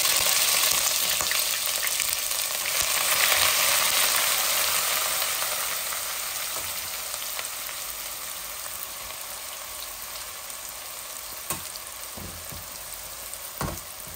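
Chicken and browned garam masala frying in a pan, a loud, dense hiss of sizzling that eases slightly over time, with a few scraping stir knocks near the end and no talking.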